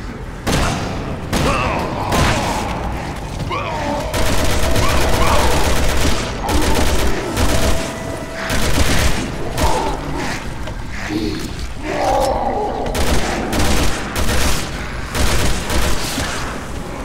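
Sniper rifle fire in Resident Evil 6, set in an underground cave, comes as repeated loud booming shots and bursts, with spells of rapid fire and some voices mixed in.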